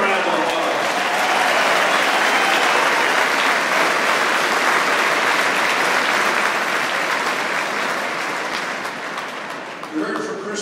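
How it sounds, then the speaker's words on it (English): Loud, dense audience applause at a political rally, sustained and even for about ten seconds before easing slightly at the end, with faint crowd voices mixed in. "Give him a round of applause."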